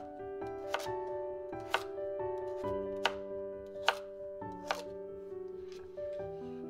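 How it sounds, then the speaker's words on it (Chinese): A knife chops peeled purple yam into small pieces for mooncakes, with about seven crisp, close board strikes spaced roughly a second apart over faint background music. "紫薯去皮后切成小块"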